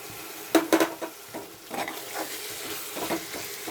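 Onion and dried fish frying in a pan for a dry fish curry, with soft sizzling and a few sharp stirring scrapes and clinks near the start, then quieter frying.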